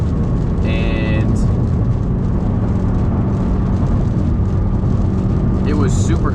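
Steady low engine drone from an Audi R8 with a gated manual gearbox cruising on a highway, a constant loud hum from inside the car with brief talking over it.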